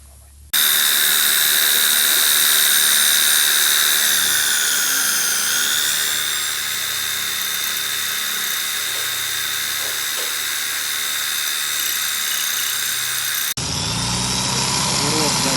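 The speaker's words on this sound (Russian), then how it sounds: "Поэтому нам нужно вот так вот просверлить отверстие для того, чтобы завести кабеля." A drill bores a hole to route wiring for an auto-dimming BMW E39 rear-view mirror fitted to a Mercedes 190, a steady high-pitched whine that holds close and loud for most of the stretch before cutting off near the end.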